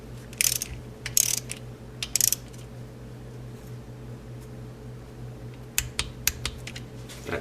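A hand ratchet clicks in short rapid bursts while tightening a small 6mm bolt into the engine case of a 1973 Honda CB750, with pauses between strokes and a steady hum underneath.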